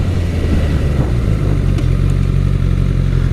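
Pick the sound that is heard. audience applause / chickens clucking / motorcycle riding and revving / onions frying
motorcycle riding and revving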